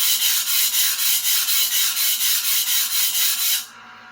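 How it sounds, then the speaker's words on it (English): Henckels chef knife, a budget model, rubbed against a whetstone in steady back-and-forth strokes, about a dozen even rasping passes close up with no talk, stopping abruptly near the end. "starting on the right side"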